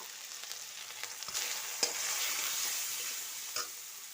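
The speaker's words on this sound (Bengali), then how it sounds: "কষিয়ে নেওয়ার সঙ্গে একটু এই যে হলুদ, পরিমাণ মতো হলুদ আর পরিমাণ মতো লবণ দিয়ে দিলাম।" Vegetables sauté in a hot pan with turmeric and salt, giving a steady close sizzle and frying hiss with occasional stirring clicks and scrapes, no voices over it.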